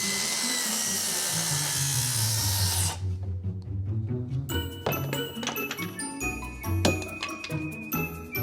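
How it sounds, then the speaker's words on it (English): A power drill drives pocket screws into wood, whirring loudly for a few seconds, then stopping and restarting in short bursts with metallic clinks and rattles, close by. "while Andrew works on pocket screwing"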